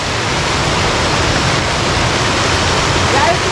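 A waterfall in Cristina, Minas Gerais roars loud and close, a steady broadband rush of falling water that fills the whole stretch without pause.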